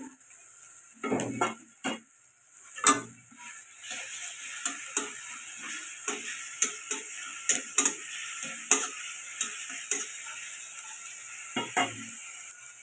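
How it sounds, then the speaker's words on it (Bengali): Ginger, garlic and onion fry quietly in a pan, with soft sizzling beneath a series of regular, sharp spoon taps and scrapes against the metal. "আদা রসুনটা ভাজা হয়ে গেছে"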